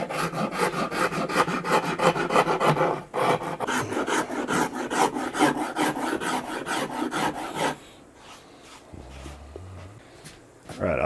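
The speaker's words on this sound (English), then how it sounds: "I'm just going to clamp the body down to the table. And I just want to start removing this material." A hand tool rasps material away from a wooden guitar body clamped to a table, in fast, even strokes for several seconds before the scraping turns quieter and sparser.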